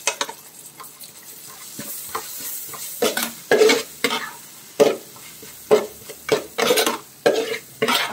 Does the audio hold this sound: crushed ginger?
yes